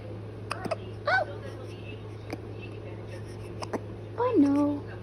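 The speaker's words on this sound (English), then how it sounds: "You have the hiccups?" A newborn baby hiccups several times, giving short soft catches and small squeaky vocal bursts at close range over a low steady hum, with the loudest one near the end.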